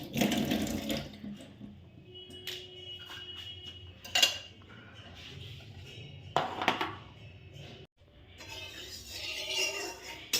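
Prawns are washed by hand in water, with splashing and swishing punctuated by clinks of a metal bowl, loud up close in bursts with quieter gaps between.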